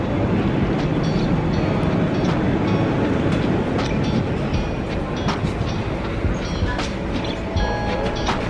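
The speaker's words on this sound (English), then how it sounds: "The train is here." A train rumbles steadily up close, with a loud continuous rolling roar and faint metallic squeals and clicks, like a train pulling into a station.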